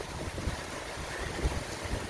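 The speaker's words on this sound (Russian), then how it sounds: "Какой ветер и какой дождь." Heavy rain and strong wind outdoors near a garden make a loud, constant rushing roar, with gusts buffeting the microphone and no voices.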